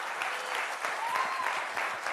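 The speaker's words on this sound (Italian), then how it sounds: "prendetevi l'applauso di questo fantastico pubblico" A live show audience applauds after a music performance, dense steady clapping at moderate level for a couple of seconds.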